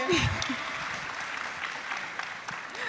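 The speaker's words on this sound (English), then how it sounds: "guys, clap for him." A crowd claps steadily and fairly loudly for a few seconds at a closing ceremony, with a voice rising briefly over the applause near the start.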